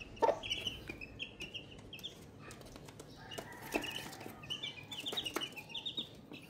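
Hens cluck in short repeated calls on a farm, near and moderately loud, with a few other bird chirps in the background and no talk.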